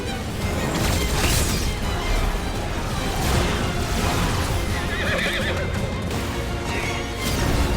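A horse whinnies loudly in Final Fantasy 16 amid rumbling game background sounds and hoofbeats, with no one talking.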